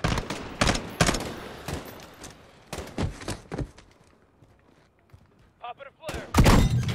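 Repeated bursts of gunfire in Call of Duty Modern Warfare, loud and close, fire in irregular volleys before a brief lull. A voice speaks near the end as the shooting resumes.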